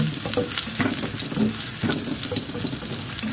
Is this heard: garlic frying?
yes